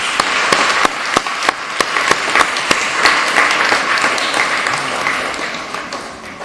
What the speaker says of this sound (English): invite from the audience another wild round of applause